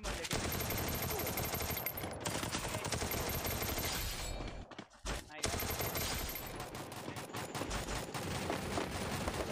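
Dense, continuous automatic gunfire in the mobile battle royale Free Fire, with rapid shots nearly filling the span, a brief pause near the middle, then more firing as game sounds and players' voices mix in.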